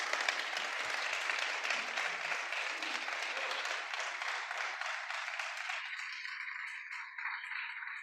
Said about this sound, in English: A round of applause for the organisers